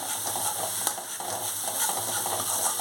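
Coconut milk poured into a sizzling gravy base for a Bengali prawn-stuffed pointed gourd dish, giving a continuous dense crackling sizzle that stays close and even throughout, without voices.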